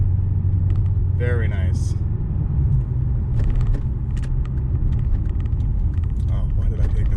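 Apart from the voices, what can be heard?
Infiniti Q45 car accelerating and shifting gears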